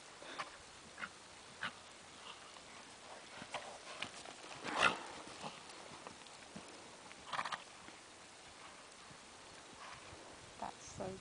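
A horse canters under a rider, its hoofbeats coming as faint, rhythmic thuds with a few louder strikes, while people talk quietly nearby.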